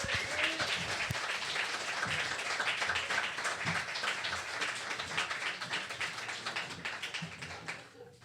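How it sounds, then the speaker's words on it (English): Audience applause for a jazz band returning for its second set, a dense, lively crowd clapping that runs strongly for several seconds before tapering off near the end. "let's have another round of applause for them"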